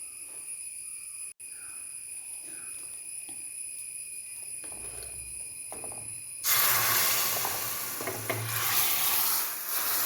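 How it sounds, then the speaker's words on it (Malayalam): Chopped onion and curry leaves hit hot oil with mustard and fenugreek seeds in a tempering for a raw papaya pulissery, first a faint steady hiss, then a sudden loud, bright sizzle that keeps crackling close by. "ഇനി നമുക്ക് ഉള്ളി അരിഞ്ഞതിടാം, കറിവേപ്പിലയും ഇടാം"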